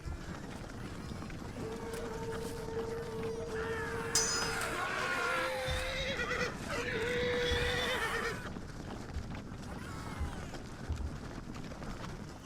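Horses neigh and whinny in a Shogun Total War battle, with several drawn-out high calls in the middle over a steady bed of hooves and battle noise.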